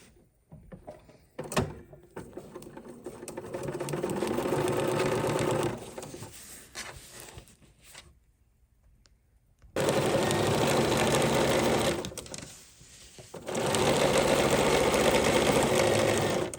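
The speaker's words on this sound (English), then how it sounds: "Lift our presser foot. And now we're ready to stitch." A sewing machine stitches folded binding onto a quilted potholder, running in two long bursts with pauses between them, alone with no talk.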